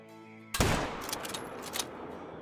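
A single loud 7mm bolt-action rifle shot in the hunting game Call of the Wild, at a whitetail map, cracking sharply after a silent start, then a long rolling echo that fades slowly.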